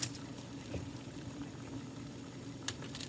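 Dry macaroni noodles go into a pan of steadily boiling water, giving a continuous close bubbling roar with a couple of brief clattering splashes, no voices.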